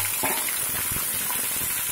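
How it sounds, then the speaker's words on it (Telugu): Ivy gourds fry in hot oil with a dense, steady sizzle and crackle that fills the short stretch, close and unbroken. "ఆయిల్ వేడెక్కాక దొండకాయలు ఉన్నాయి కదా, ఈ ముందు ఫ్రై చేద్దాము"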